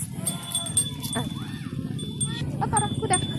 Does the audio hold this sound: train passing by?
no